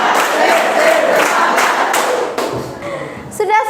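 A classroom of pupils, standing for a cheer-clap routine, claps together in a dense loud burst of rapid, overlapping hand claps with some voices mixed in, before the clapping tails off and a single voice speaks near the end.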